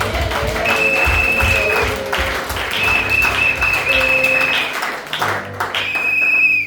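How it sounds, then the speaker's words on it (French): A Sunday church congregation bursts into sustained applause and clapping, a dense wash of hands continuing for several seconds over a held organ or keyboard tone. "Est-ce que tu peux acclamer pour toi-même?"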